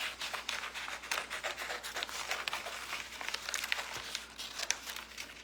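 Scissors cut a paper rose transfer, the Vintage Botanical design from Redesign with Prima, producing a steady close run of soft crinkling snips and paper rustle with no talk.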